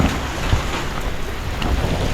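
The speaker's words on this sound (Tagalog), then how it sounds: "Lakas ng ulan." Heavy rain pours down without a break in a dense, loud, even hiss of drops hitting the surfaces around, with nobody talking.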